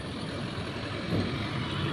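Buses and other vehicles pass a roadside toll gate in the evening. A low, continuous engine rumble comes from moderately near, swelling slightly as a heavy vehicle goes by, with no speech.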